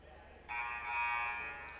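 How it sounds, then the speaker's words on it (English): A basketball game buzzer at the scorer's table lets out one steady electronic blare of about a second and a half, clear over low arena background noise. "The buzzer sounds."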